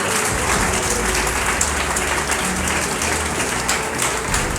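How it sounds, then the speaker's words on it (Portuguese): A congregation at a Pentecostal-style church service claps together in sustained, even applause, a thick wash of many hands with no speech on top. "Vamos aplaudir Jesus."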